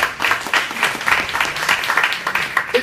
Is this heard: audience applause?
yes